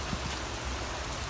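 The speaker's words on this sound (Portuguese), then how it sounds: "Se liga nessa chuva," Heavy rain pours down outdoors on a Friday morning, a dense and steady hiss with no breaks.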